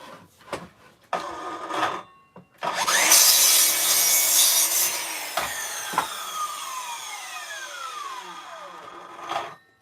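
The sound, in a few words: saw making a straight cut in wood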